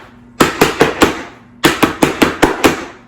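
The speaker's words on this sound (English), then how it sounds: "I'm going to bang the air bubbles out" A filled cake pan for a homemade caramel cake is banged on a counter to knock out air bubbles. There are two quick bursts of about five sharp, hollow knocks each, with a short pause between the bursts.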